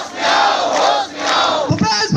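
Assistant teachers' protest crowd loudly chanting slogans in unison, two long rising shouts followed by a burst of clapping, close and energetic.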